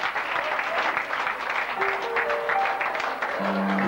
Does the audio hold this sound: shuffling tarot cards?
no